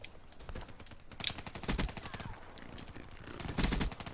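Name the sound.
video game gunfire from Razorback or Kuda weapon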